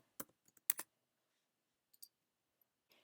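A handful of quick, light keystrokes tap on a computer keyboard in short bursts with quiet gaps between them, close and crisp in an otherwise silent room.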